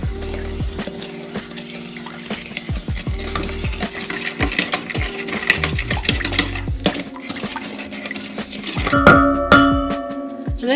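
A utensil stirs vegan dessert batter made with coconut oil and vanilla extract in a bowl, with repeated metallic clinks and scrapes against the bowl at close range and a ringing tap near the end.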